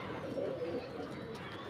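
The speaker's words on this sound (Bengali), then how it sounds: "এগুলো কালশিরা পায়রার বাচ্চা" Young Kalshira pigeons coo softly in a loft, a faint, low, rolling murmur against quiet background noise.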